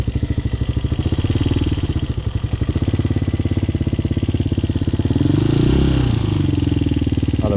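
A 250cc Hawk motorcycle idles close by with a steady, chugging pulse, choke partly on, while a fast metallic rattle of loose keys on a key ring clatters along with the engine throughout.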